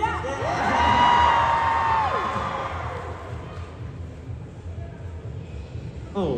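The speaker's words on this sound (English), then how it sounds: "Wait, can we get some cheers now?" A crowd at a VidCon panel for the Lifesteal SMP cheers and whoops, a loud swelling roar with high shrieks that peaks early, then fades into lingering murmurs and scattered shouts.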